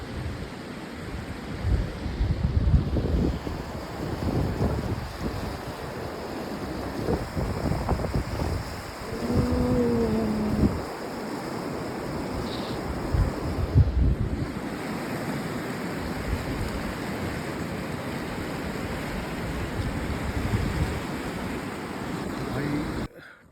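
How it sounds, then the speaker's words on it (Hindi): Water rushing along a river in Uttarakhand, with gusts of wind buffeting the microphone, a continuous wash of noise; a voice briefly murmurs under it and a faint tone appears midway. "इधर पानी चल रहा है, हवाएं चल रही है"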